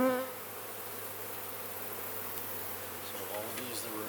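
Honeybees swarm over a hive frame during a honey harvest, producing a steady, dense buzzing drone that is close and even throughout, with no talking.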